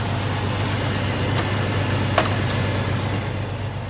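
A Chevrolet S10 truck engine running after a vacuum leak was fixed, a steady low idle hum with constant broadband rumble, close and even, with a brief tick partway through.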